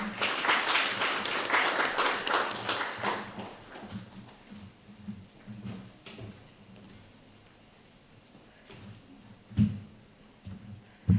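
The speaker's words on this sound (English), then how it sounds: "please give a round of applause for Dina Suarez" Audience applause for a performer at a Two Spirit and Indigiqueer showcase, strong at first and then thinning out into scattered claps over a few seconds.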